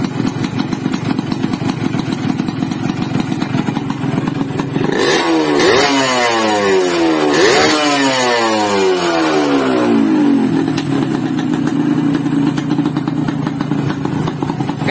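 A Yamaha RX King two-stroke motorcycle, its ports heavily reworked, bores re-honed and polished, idles with a rattly buzz, then is revved twice in quick rising sweeps before settling back to a loud, close idle.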